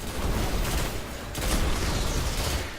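Rapid gunfire from the Red Death pulse rifle loaded with high caliber rounds in Destiny, loud clustered bursts of shots with a brief lull in the middle before another burst.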